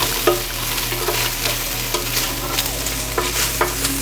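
Air-fried green beans tossed with minced garlic are stirred in a bowl, giving a steady run of close scraping and clinking strokes over a continuous faint sizzle.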